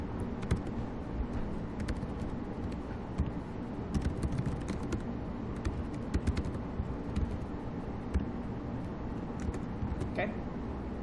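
Typing on a computer keyboard during backend coding work: steady rapid key clicks rattle on over a constant background hum, with a person talking through much of it.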